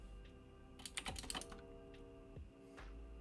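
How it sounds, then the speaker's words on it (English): Keys on a computer keyboard are tapped in a quick flurry of soft clicks near the middle, then a couple of isolated taps, quiet and close over a steady low hum with no talk. "So we'll type up the plan here."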